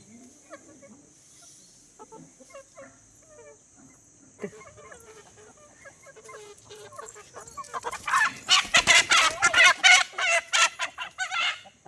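Village chickens cluck in short, soft bursts that grow into a louder, flurried commotion of flapping and squawks near the end, with a hen-house hum behind.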